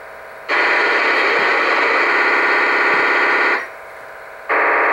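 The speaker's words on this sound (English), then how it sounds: "So this is a trunk signal." Loud, steady burst of harsh digital buzzing from a trunked radio signal on a UHF scanner around 400 MHz, lasting about three seconds, dropping to quieter hiss, then starting up again; no voices.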